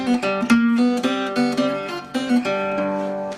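Acoustic guitar riff, a brisk run of plucked, ringing notes with a steady rhythm, played close with no voice.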